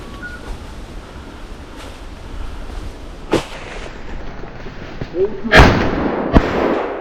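Sharp shotgun-like reports crack out during an outdoor bird hunt, one isolated shot followed by two louder blasts close together, with people talking in the background.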